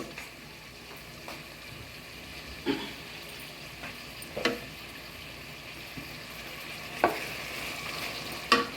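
Ground coriander and cumin with a little yogurt get stirred in a pan for a Bengali-style tehri, a low background hiss broken by several spaced scrapes and taps of the spoon, with no talking.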